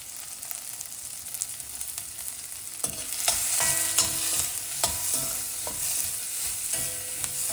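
Onions with turmeric sizzle steadily in a hot pan for an aloo gobi cauliflower-potato fry, with sharp scraping stirs of a spatula breaking through the crackle from about three seconds on.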